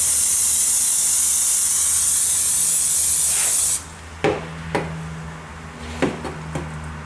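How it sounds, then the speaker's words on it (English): Hairspray is sprayed in one steady hiss for nearly four seconds onto model train scenery, then a few light knocks and clatters follow as the can is handled. "So first I'm going to spray up the hairspray."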